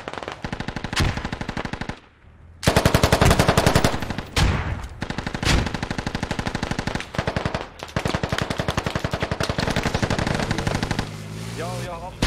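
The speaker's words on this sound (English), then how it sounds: "SKS on the north, you hear that?" Rapid bursts of SKS rifle fire in the Squad military shooter game, loud and close, cracking in quick strings with short pauses, a brief lull near the start, and a voice talking faintly underneath.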